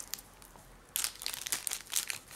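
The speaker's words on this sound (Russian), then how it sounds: "я открою этот пакетик и посмотрим" A plastic packet holding a Wi-Fi adapter is torn and crinkled open close by, quiet at first, then a burst of crackly rustling and crunching for the last second and a half.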